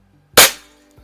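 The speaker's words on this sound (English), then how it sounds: "let's go ahead and see if we can take a couple of good shots at it here" A Chinese B3 toy gun fires a single sharp crack close by that decays quickly, with a faint click or thud just after and low hum beforehand.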